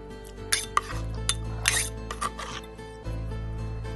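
Roughly chopped shrimp going into a kitchen mixing bowl with sharp clinks of utensils against the bowl, a few scraping knocks, and a low steady hum underneath.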